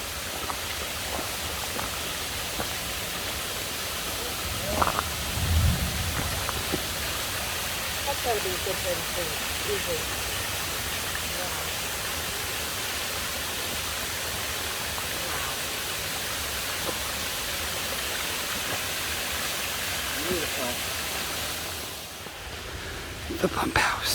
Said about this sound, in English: And that waterfall, it's right here.